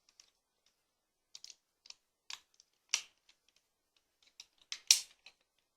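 Plastic transforming-toy parts being folded and snapped together, a series of small, sharp clicks and snaps with irregular gaps, fairly close and alone in a quiet room.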